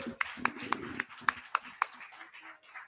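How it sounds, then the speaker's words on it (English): After a country music show at Eaglesnest Art Center, a small audience gives scattered, sparse hand claps, a handful of distinct sharp claps over a few seconds with faint murmuring behind. "ladies and gentlemen. Give him another hand."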